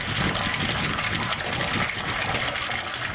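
Water gushes steadily from a pump into a large barrel during irrigation filling, producing a loud continuous broadband rush with a faint mechanical hum underneath and no pauses.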